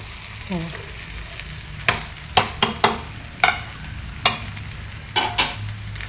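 Pieces of potato for a yellow potato bhaji are stirred and fried in a pan. A steady sizzle runs under a string of sharp spoon scrapes and knocks against the pan, close up, with no voices.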